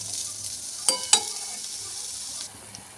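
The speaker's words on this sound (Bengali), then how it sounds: "এই যে আলু ভাজা হয়ে গেল," Potatoes frying in a wok give a steady, close, soft sizzle, broken by two sharp clinks of a utensil against the pan near the middle.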